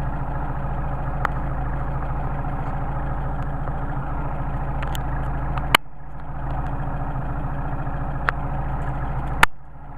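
A Mercedes 190SL engine with Solex carburetors idles steadily at about 700 rpm, a low continuous rumble that runs alone, broken only by a couple of sharp clicks or taps.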